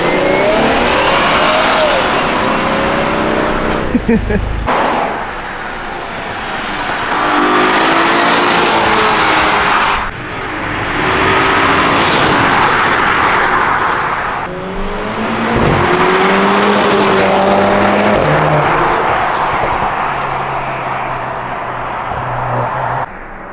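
A loud Infiniti G37 engine revs up and down repeatedly while drifting, with rising and falling pitch, tires squealing throughout, close and continuous.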